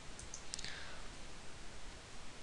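Computer mouse clicks on a Windows 7 PC, a few quick faint taps close together near the start, then only a quiet hiss.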